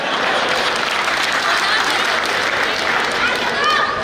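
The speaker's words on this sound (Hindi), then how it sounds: "ताली क्या हमारे पिताजी बजाएंगे?" Large crowd at a Hindi poetry gathering during an annual fair festival claps steadily in a dense, continuous wash of applause with a voice faintly over it.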